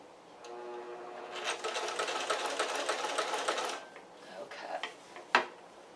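A sewing machine stitches the seam of a pair of walking shorts, running in a steady close whir for a couple of seconds before slowing, with a few sharp clicks and handling noises afterward.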